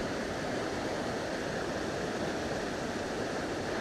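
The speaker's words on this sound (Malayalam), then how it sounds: "ആ വെള്ളച്ചാട്ടം ഇപ്പോൾ കാണുന്നുണ്ടോ?" A waterfall in a forest near Kadappara roars as a steady, dense rush of water, loud and unbroken, with no voices heard.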